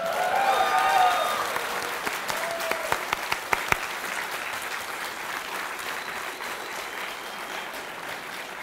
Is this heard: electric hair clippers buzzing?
no